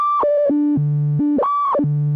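A Korg MS-10 analog synthesizer plays a clean, loud tone that steps down through several held pitches in a falling pattern, then repeats the sequence, with no voices present.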